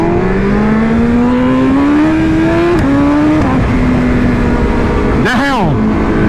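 A 2023 or 2024 BMW S1000 RR sportbike engine drones loud and steady close by while riding, its pitch climbing through gears with one sharp rev spike near the end.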